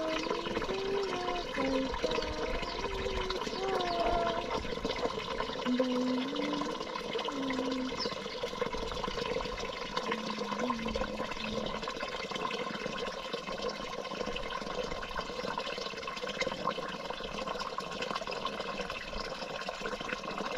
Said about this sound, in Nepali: कस्तो सानो पानी आएको यहाँ